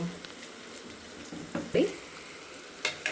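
Onions fry in a pan for egg fried rice, a low, steady sizzle with a few sharp stirring scrapes and clinks breaking through near the middle and end.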